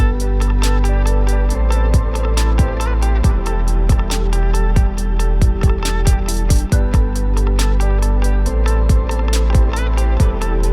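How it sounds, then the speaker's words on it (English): Electronic track built in Logic Pro X with a guitar variation riding over steady programmed drums, thudding kicks and bright hi-hat ticks keeping an even rhythm, sustained chordal tones layered underneath, loud and continuous with no voices. "And we have another guitar variation over here"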